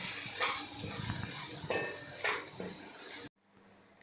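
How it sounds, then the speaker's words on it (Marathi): Spice masala with kasuri methi frying in oil over a low flame, stirred with a utensil that scrapes and taps the pan amid soft sizzling, then stops abruptly. "मसाला आपल्याला छान असा परतून घ्यायचा आहे तेल सुटेपर्यंत छान परतून घ्यायचा आहे"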